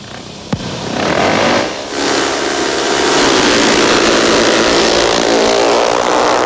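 Egon Müller's racing motorcycle launches from a standing start, a sharp crack followed by a loud, raw engine roar that dips briefly, then surges and holds at a high, continuous wail, close and alone.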